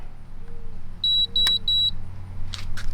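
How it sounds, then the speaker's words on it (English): A short series of high electronic beeps from a Zero Breeze Mark 2 portable air conditioner powering on, three tones in a row plus a click, clear and close over a low steady hum. "you heard the beeps, so it is on"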